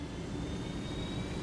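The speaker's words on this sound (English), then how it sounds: "Next thing I want to talk about is motherfucking helicopters, as you can tell right there." Helicopter flying in Ghost Recon Wildlands, a steady, loud engine and rotor drone with a faint high whine, continuous and close throughout.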